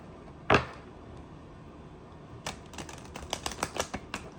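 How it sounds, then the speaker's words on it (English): Tarot cards being shuffled by hand at close range, a quick cluster of crisp riffling snaps and flicks following an earlier single sharp slap of cards, with no talking. "So why I'm shuffling these cards is I'm going to pull out a card"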